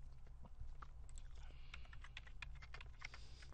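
Quick, light tapping on a computer keyboard, a close, fast run of soft clicks that grows denser partway through, over a low steady hum.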